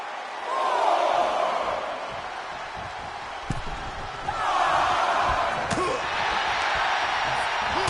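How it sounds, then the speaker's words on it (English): Wrestling video game punches land as dull, heavy thuds to the gut, a couple of close impacts over a loud, surging arena crowd that swells and fades. "Fist directly to the gut."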